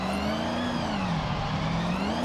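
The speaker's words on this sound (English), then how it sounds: "and then I heard the V8" A V8 engine with stock exhaust in the Forza racing game holds a loud, steady, droning rev with slight pitch swells, continuous and close.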